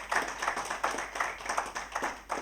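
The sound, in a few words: audience applause for the panel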